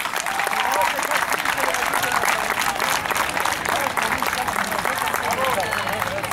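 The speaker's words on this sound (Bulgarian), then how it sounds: "Вашите силни аплодисменти за двамата съдии." An audience applauds the two judges before a mini football World Cup final, with dense, sustained clapping from a crowd that holds steady for several seconds.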